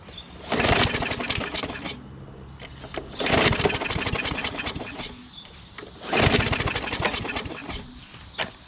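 A Craftsman push lawnmower with a Briggs 550EX engine that runs rough, pulled over repeatedly in three bursts of sputtering engine noise that never settle into steady running, with quieter pauses between.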